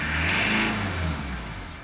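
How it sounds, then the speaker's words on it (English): Subaru Legacy diesel engine idling steadily, with a brief dip in revs as the aircon compressor clicks in, a close, continuous low engine hum with no talk. "You can hear the compressor click in and the revs dip"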